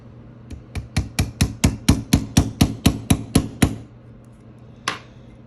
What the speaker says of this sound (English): You hammer it in enough basically to get it started.